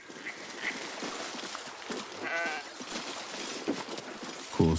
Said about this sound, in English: Wheezing, the sheep backs away.